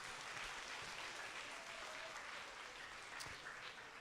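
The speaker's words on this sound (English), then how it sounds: "give him a round of applause." Steady applause from a spelling bee audience, a dense wash of clapping at moderate volume that holds evenly for several seconds after a contestant's turn.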